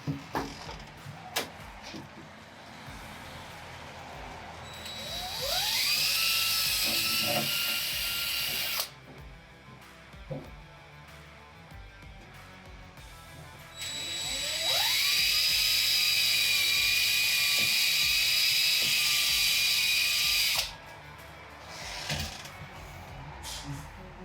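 Power drill with a 2 1/8-inch hole saw cutting lock holes through an old door, two long high-pitched whining bursts that spin up, hold steady and stop, separated by quieter handling noises.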